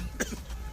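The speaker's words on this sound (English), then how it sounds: "this guy cough na serious matter" A single short cough from a passenger on a bus, one quick burst over a low steady engine hum, with no talking.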